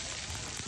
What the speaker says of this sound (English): It's right now starting to rain, as I don't know if you can tell.